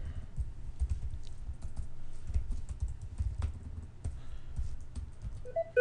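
Quick bursts of typing on a computer keyboard while keyboard shortcuts are entered in accounting software, a steady patter of close, soft key clicks with short pauses between runs.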